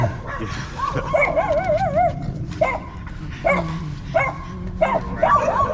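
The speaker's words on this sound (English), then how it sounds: "Yeah, those dogs." Several dogs bark and yip in repeated bursts, with some whining, wavering vocal tones, fairly close and loud over a steady rumbling background.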